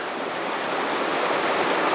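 A big creek-sized flow of the Arkansas River in Colorado runs through the deepest part of its channel, past large, now fully exposed boulders, making a steady, close, even rush of water with no talking.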